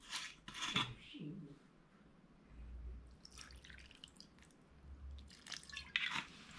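Shaoxing rice cooking wine is poured into raw pork for a stir-fry with jalapeno, giving brief, faint splashy trickles near the start and end with soft kitchen handling noises between.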